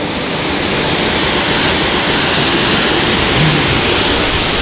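A waterfall, the eighth falls along a climb, roars as a loud, steady wall of rushing water up close, unbroken for the whole span with no voices over it.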